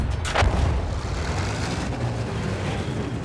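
A heavy artillery cannon blast in the video game Battlefield 1 booms near the start, followed by low rumbling and distant battle noise.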